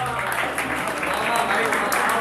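An audience at a Hindi stand-up comedy show claps in a sustained burst of applause, dense and fairly loud, with a voice talking over it.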